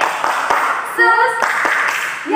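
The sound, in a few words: children clapping along in Sunday school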